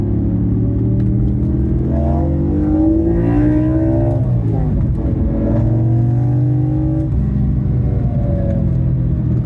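A BMW E46 M3 fitted with a swapped-in S85 V10 engine revs hard and loud, its pitch sweeping up and falling back in quick throttle blips, close by with no talk.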